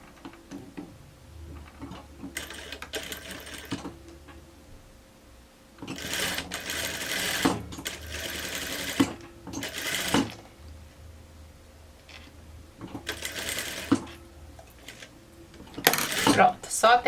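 A sewing machine stitches a blouse in several bursts of rapid mechanical whirring, separated by pauses filled with light handling clatter and someone speaking between runs.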